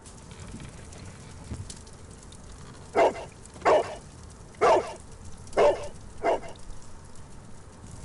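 Five short, evenly spaced dog barks from the hound in a Sherlock Holmes video game ring out clearly over a quiet low background, with no talking.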